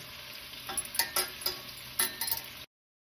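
Rosemary sizzles in oil in a pan with pork chops, a steady frying crackle with several clearer stirring clicks and scrapes, close and moderately loud, then cutting off abruptly near the end.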